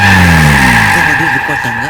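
A car driving with tires skidding and squealing, a loud, close screech over engine noise that sweeps downward in pitch over about two seconds, with a voice faintly underneath.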